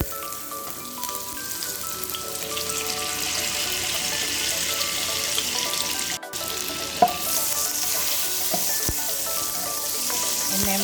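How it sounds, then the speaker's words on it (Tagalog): Butter melting in olive oil in a hot pan gives a steady, close sizzle and crackle that runs throughout, with a brief dip and a small pop midway. "I-melted lang natin itong butter."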